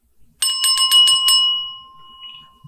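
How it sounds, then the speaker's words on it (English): A bar bell rung several times in quick succession, bright metallic dings with a ringing tail that fades, clear and close, followed by a brief faint murmur. "So someone needs to ring that bell."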